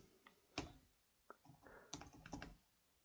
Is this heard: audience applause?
no